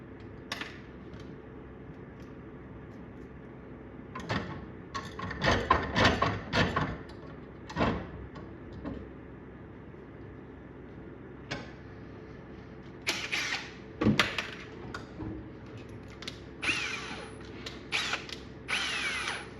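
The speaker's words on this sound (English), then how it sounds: "So we want to drill a hole through the bolt" A power drill whines in short, uneven bursts while drilling a hole through a bolt held in a vise, stopping and restarting several times at close range, with brief grinding catches between runs.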